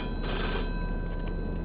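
A telephone rings in the video game Mafia 2, a sustained bright ringing tone heard steadily and fairly loud with no talk over it.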